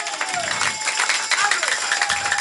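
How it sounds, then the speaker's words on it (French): At a church service, the congregation breaks into a dense, continuous round of clapping and crowd noise, with voices and faint tones mixed in throughout. "Applaudissez le roi de gloire."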